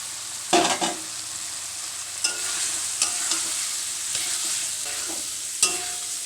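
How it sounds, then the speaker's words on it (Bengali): Fried potatoes are stirred in a pan with cooked spice masala, giving a steady, close sizzle broken by several sharp scrapes and clatters of the spoon, with no talking. "দেখো আলুগুলো নাড়াচাড়া করতে করতেই গলে যাচ্ছে"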